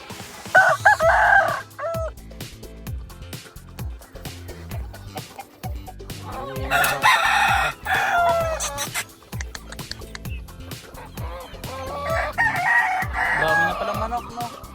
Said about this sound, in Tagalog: Dami na palang manok, no?